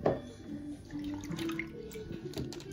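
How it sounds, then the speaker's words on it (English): A child carefully pours a small amount of milk into a cup for Santa at Christmas, a soft, close trickle of liquid lasting a couple of seconds. "You're gonna very carefully pour him just a little bit of milk."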